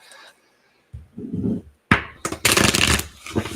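Tarot cards riffled and shuffled up close: a soft muffled rustle, then a sharp snap and a quick flurry of crisp riffling.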